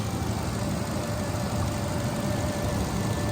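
A 5.6-liter V8 in an Infiniti QX56 SUV idling steadily, a constant low rumble with a faint hum, close and unbroken, with no voices.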